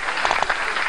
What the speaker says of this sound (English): People applauded and shouted for joy toward them.